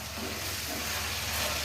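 Masala with salt frying in a pan for a chicken roll filling, a brief steady hissing sizzle, dense and even, close and uninterrupted by voices.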